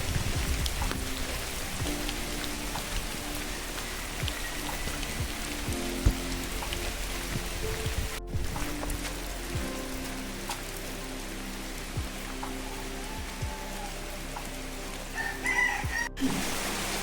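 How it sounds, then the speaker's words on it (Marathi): Steady, dense downpour of heavy monsoon rain in Devgad, Konkan, hissing continuously, with roosters crowing in the distance and no speech. "पावसानं धुमशान घातले ना"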